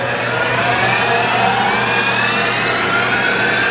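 An Atrump B5-FC CNC bed mill spindle runs at maximum RPM with a loud, steady high-pitched whine and a gradually rising tonal sweep over a constant low hum, heard close and uninterrupted with no talking.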